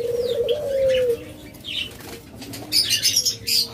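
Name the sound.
doves flapping wings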